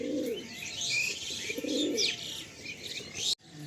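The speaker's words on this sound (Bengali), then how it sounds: "বাকি ম্যাক্সিমাম যত পায়রাই ভাইয়ের লফটে সব ম্যাড্রাসই পায়রা আছে।" Madrasi pigeons coo in a loft, with low throaty rolling coos repeating every second or so beside higher chirping calls, close and clear with no talk.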